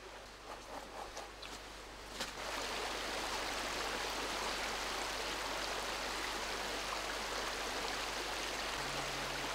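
Water pours and rushes steadily while soil is washed in a gold pan during traditional artisanal extraction of gold flakes from earth and sand, a constant dense splashing that continues throughout after a few brief handling sounds at the start.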